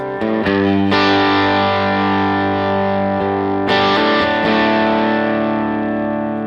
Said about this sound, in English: the first stage, is the boost and it's driving the clipping stage. So get a little op-amp clipping going on